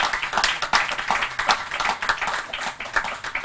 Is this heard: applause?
yes